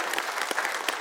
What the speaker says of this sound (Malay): terima kasih kita bagi tepukan kepada Sam Nabi